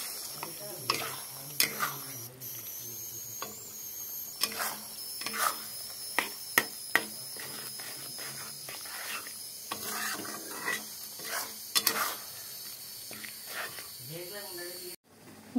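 A tomato and fish paste mixture with salt is sautéed in a pan for a Bengali fish curry, giving a faint continuous hiss broken by scraping and stirring knocks while someone talks.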